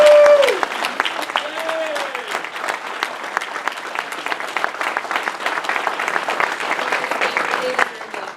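Audience at a celebration of life breaks into steady, sustained applause filling the room, continuous clapping from many hands lasting several seconds before tapering off.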